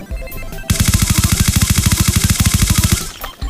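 Type 25 assault rifle firing in a video game, one long rapid full-auto burst of evenly spaced sharp shots lasting about two seconds, loud and close, with no talk.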